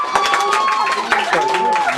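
Guests at a child's seventh birthday party clap and cheer together in a lively burst, the clapping mixed with crowd noise and a voice carrying over it.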